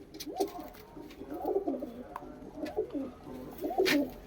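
Female Punjabi malai chhatri pigeon from Ludhiana, pale yellow-eyed, cooing up close in a run of soft, throaty rolling coos that repeat in uneven bursts, with no talking.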